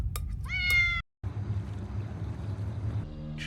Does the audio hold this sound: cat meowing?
yes